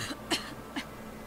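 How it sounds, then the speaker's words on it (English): A single character in the Oxenfree game coughs in two short, dry bursts about half a second apart, close and fairly loud over a steady low background hum. "You're coughing."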